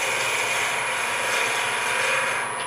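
A pen barrel is turned on a wood lathe, giving a steady, loud, close-up whirring and scraping drone with no break for under three seconds.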